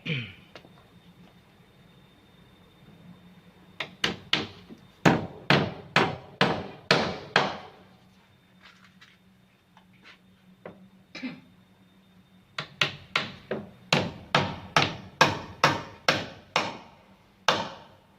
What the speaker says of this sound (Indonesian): pegang palu